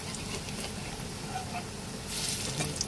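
Pea lentil fritters (motor dal bora) sizzle in hot oil as they are turned one by one, a steady close frying hiss with brief spatters and a louder burst near the end.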